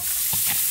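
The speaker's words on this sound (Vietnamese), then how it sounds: "Rồi mình sẽ cho cái phần đầu cá với cái đoạn khúc đuôi cá vào để đảo nhé." Fish head and tail pieces are being stirred and tossed in a hot pan for a fish broth, giving a short scrape of stirring over a steady low sizzle, close and fairly loud.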